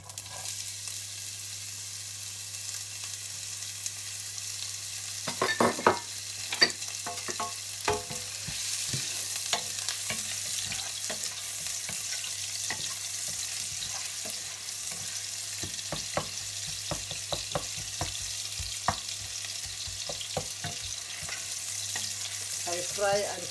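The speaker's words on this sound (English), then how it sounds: "fry the onions" Onions sizzle quietly in a pan for kapenta in tomato sauce, a soft steady hiss broken by scattered clacks and scrapes of stirring, with a faint low hum running underneath.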